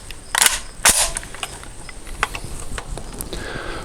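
Five rifle shots from a 7.62x39 rifle at an outdoor range, heard as sharp loud cracks near the start, then smaller clicks and rustles, with no talking.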